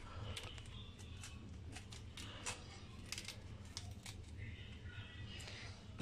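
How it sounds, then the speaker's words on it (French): A knife cutting the base off a fresh endive on a board gives a few crisp, close snips and crunches spread over several seconds, fairly quiet against a low hum. "nous allons couper le cucu de l'endive"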